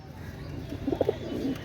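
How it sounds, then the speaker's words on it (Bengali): A pair of KTM Teddy pigeons cooing close by, a few soft low throaty coos in the middle of a short stretch of quiet room noise. "একজোড়া কেটিএম টেডি কবুতার"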